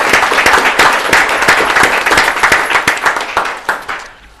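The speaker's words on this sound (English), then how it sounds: "give Ms. Crabb a big round of applause" Clapping from the audience at a school board meeting, a fairly small crowd applauding with distinct individual claps that taper off toward the end.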